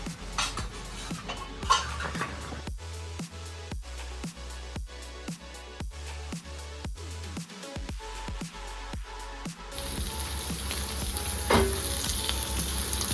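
Chicken pieces frying with masala in a pan give a steady close sizzle, broken by repeated stirring and scraping strokes, and the hiss grows brighter and louder toward the end.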